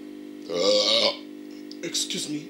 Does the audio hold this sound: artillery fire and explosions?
no